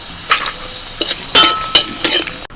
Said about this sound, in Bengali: প্রথমে ডালের বড়িটা ভেজে নিচ্ছি তেলের মধ্যে ফোড়নে দিচ্ছি শুকনো লঙ্কা